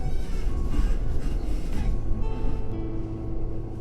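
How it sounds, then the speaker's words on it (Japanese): An Austrian Regional Express train running just after departing Ebenfurth station, a steady loud rumble of wheels and motors from inside the carriage with a faint whine, easing slightly toward the end. "エーベンフルト駅を発車しましたが、ここではまた進行方向が変わりまして逆向きに進んでいきます。"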